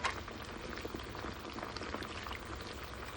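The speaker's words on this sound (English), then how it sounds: "add in our pepper leaves to blanch" Salted water at a rolling boil as green pepper leaves blanch in it, a steady close bubbling and hissing that holds evenly through the clip with no talking.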